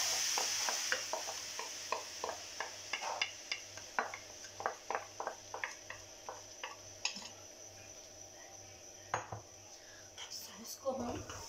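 Sauce for saucy potatoes cooking in a pan, with a faint, quiet simmer under a run of soft, regularly spaced spoon scrapes and taps against the metal.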